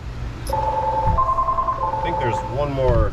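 A telephone rings with a steady electronic warble in an auto repair shop during oil pump work on a GM 5.3 V8, heard over a low engine-like rumble, with someone speaking briefly near the end.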